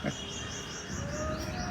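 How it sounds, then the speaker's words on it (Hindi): Birds chirp all around outdoors in a continuous faint twittering over a soft background hiss, with no voices, as if heard from a short distance. "खूब चिड़ियाँ चारों तरफ बोल रही हैं"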